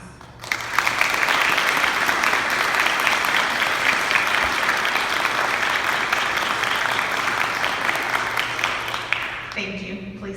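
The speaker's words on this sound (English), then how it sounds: "Will everyone please join me in showing these family members and friends another round of applause?" Sustained audience applause for officers' family members and friends at a ceremony. The clapping is loud and dense and holds steady for about nine seconds before stopping abruptly.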